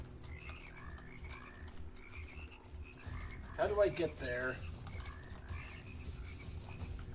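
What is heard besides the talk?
frogs croaking in the video game Immortal Redneck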